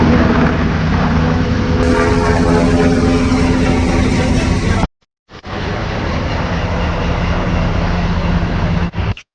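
Loud, steady rotor and engine roar from a helicopter overhead, cutting out briefly in the middle, then resuming at full strength.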